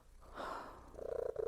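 A cat purrs softly and close by in a quick, pulsing rumble after a brief breathy sound, the purr lasting about half a second and heard alone.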